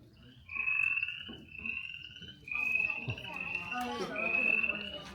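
A frog croaks in repeated trilling calls, each a few seconds long with short gaps, fairly close against a quiet outdoor background at night at Morrow Mountain State Park.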